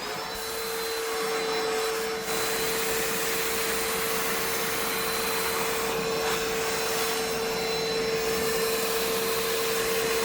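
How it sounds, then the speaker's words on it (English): A vacuum cleaner roars steadily and loudly close by, its high whine holding constant for the whole stretch, as it cleans the carpet inside a Chevrolet Silverado pickup truck. "Let's vacuum it up."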